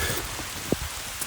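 A heavy downpour hisses steadily and densely the whole way through, with one brief, sharper drop or tap standing out.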